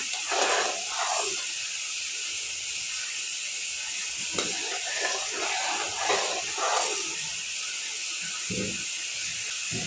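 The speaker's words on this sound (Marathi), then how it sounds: "व्यवस्थित चांगली उकळी आलेली आहे बघा" Sugar syrup for gulab jamun boiling on a gas stove, giving a steady bubbling hiss with soft irregular pops that carry on throughout.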